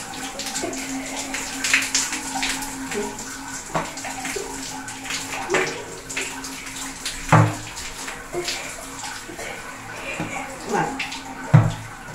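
Running water splashing during hair washing, a close, uneven stream with irregular louder splashes and bumps, with faint voices nearby at times.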